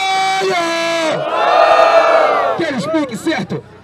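A loud crowd at a Brazilian street rap battle cheers and shouts together in a sustained roar, with individual yells and whoops breaking out near the end.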